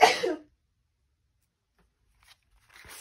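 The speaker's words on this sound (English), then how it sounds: "Hold on, I'm gonna sneeze." A single sharp sneeze bursts out close by at the very start, brief and loud, then the room goes nearly silent apart from a faint rustle near the end.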